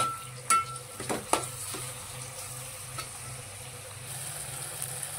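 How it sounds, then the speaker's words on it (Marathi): Tomato and onion frying in a pan for a bitter gourd dish, a steady close sizzle with a few sharp utensil knocks and scrapes near the start, then continuous hissing. "टोमॅटो पण चांगला आपण भाजून घेऊया"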